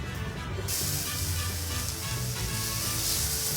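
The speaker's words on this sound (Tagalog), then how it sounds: "At lulutuin na natin ang bawang." Garlic frying in hot oil in a pan for Korean ground beef, a steady bright sizzle with a sudden surge of hissing just after it hits the oil, close and continuous, under low background hum.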